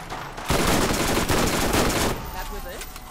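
Pistol gunfire in the Borderlands video game: a dense, loud burst of rapid shots lasting over a second and a half, then ringing away into quieter game ambience.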